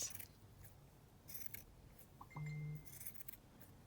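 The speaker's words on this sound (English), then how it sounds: "I'm going to just cut the crinkly edge off." Scissors snip through the crinkly edge of lace glued down in a craft journal, one short close cut with a brief metallic ring amid quiet rustling.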